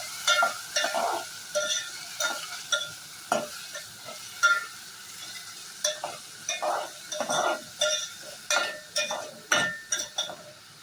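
A spoon stirs a spice paste sizzling in a pan for a dry vegetable dish, with rhythmic close scraping strokes and light clinks over a steady frying hiss.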